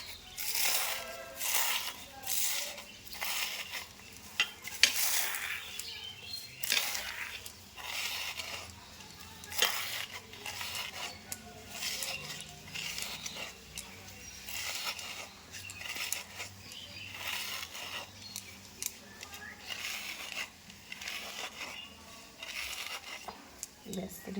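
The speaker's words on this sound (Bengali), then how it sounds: "এবারে পাতাগুলো গুঁড়ো করে নেব।" Neem leaves are ground to a powder in the kitchen with an irregular run of soft, scratchy crushing strokes. The sound stays faint and close, and a voice talks quietly over parts of it.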